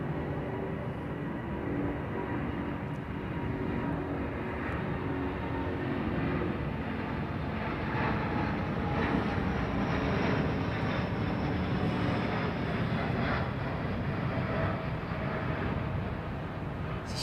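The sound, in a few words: airliner on its takeoff roll at Heathrow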